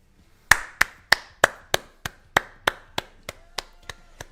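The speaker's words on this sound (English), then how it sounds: "round of applause, bro" A single person gives a slow round of applause: about a dozen sharp, evenly spaced hand claps, close and crisp, fading slightly in strength toward the end with no talking.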